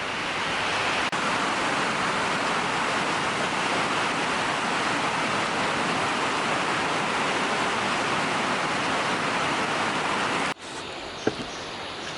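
Heavy rain falls in the Borneo rainforest, a loud, dense and unbroken roar of downpour that fills the scene before cutting off abruptly near the end.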